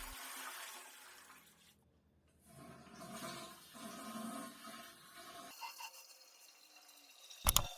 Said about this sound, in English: do a second flush to drain out most of the sediments that settled at the bottom of the tank